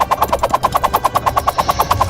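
Rapid automatic gunfire from the video game Totally Accurate Battle Simulator, a steady rattling burst of about twenty evenly spaced shots heard alone at moderate loudness.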